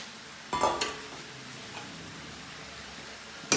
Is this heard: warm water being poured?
no